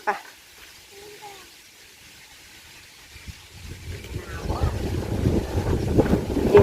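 Outdoor wind buffets the microphone, starting as a faint hiss and growing into a loud, continuous low rumble over the second half.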